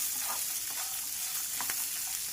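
Fresh coconut slices, dal and peanuts sautéing in a pan for a South Indian coconut chutney, a steady soft sizzle with faint stirring scrapes, moderately quiet and without voices.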